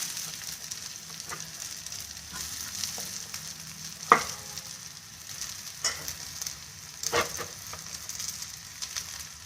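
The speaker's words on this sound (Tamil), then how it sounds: "நல்லா எல்லா இடமும் இது நம்ம வதக்கினே இருந்தோம்னாவே நல்ல டேஸ்ட் வந்துடுங்க" Crumbled sheeralam sautéing in oil with chana dal and urad dal, a steady low sizzle broken by occasional sharp spatula scrapes and taps against the pan, close by and moderately quiet, no talking.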